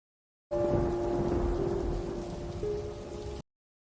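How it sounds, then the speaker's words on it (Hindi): Heavy rain pours steadily with a dense hiss, and deep thunder rumbles beneath it at night throughout, loud and continuous with no voices. "आज शाम से ही बहुत तेज बारिश हो रही थी।"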